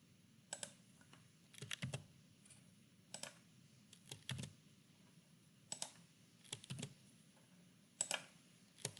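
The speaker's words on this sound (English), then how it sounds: "I will continue clicking and typing the plus sign until I am finished." Bursts of keyboard typing and clicking in short, uneven clusters separated by brief pauses, close and fairly quiet.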